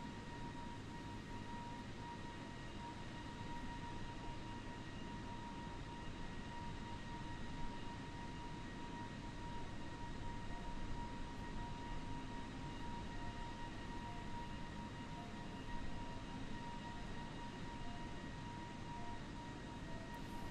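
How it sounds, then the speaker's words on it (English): Airbus A320 airliner engines in Microsoft Flight Simulator, heard as a steady, continuous jet drone with faint tonal whine, unchanging and alone at moderate level. "So we'll just keep the lovely sound of our airplane in the background for now."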